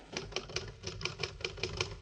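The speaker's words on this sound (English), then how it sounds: "I'll type it out for you right now on my Underwood typewriter" An Underwood typewriter is typed at an even pace, about ten crisp close keystrokes with faint mechanical rattle between them, heard alone.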